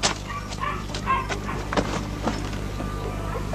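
Puppy barking in a Filipino film scene, several short yips and barks at moderate distance over a steady hum and background noise, with no clear talk.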